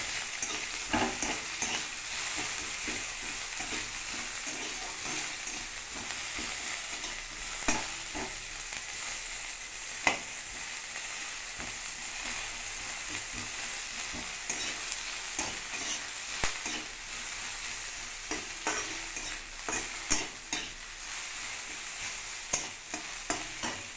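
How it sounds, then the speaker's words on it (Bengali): Onions frying in a wok (kadai) with panch phoron spice mix, a steady loud sizzle with scraping stirs and occasional clacks of the utensil throughout, no voices. "পেঁয়াজটা একটু ভাজা ভাজা করে নিতে হবে।"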